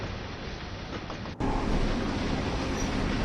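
Train rolling on rails in Train Sim World on the Ruhr Sieg Nord route between Hagen and Boele: a steady, loud broadband rumble that briefly cuts out, then resumes slightly louder and continues unbroken.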